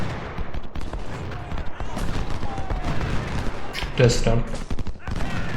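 Massed musket volleys and cannon fire from a Civil War battle in Ultimate General: Civil War crackle and boom continuously, loud and dense, with someone talking over the gunfire.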